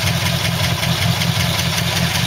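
A 1950 Ford F1 stepside pickup with its original flathead V8 and twin glass-pack mufflers ticks over at idle, a loud, even low rumble with a regular pulsing beat.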